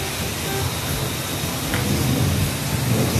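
Steady, heavy rain pours down in an outdoor city square, a dense constant hiss with a low rumble of thunder underneath and no talking.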